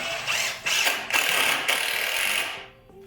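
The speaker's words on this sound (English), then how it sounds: "Screw that in." A screw being driven in while a floating shelf is mounted, heard as a steady mechanical ratcheting whir in several close bursts that cut off near the end.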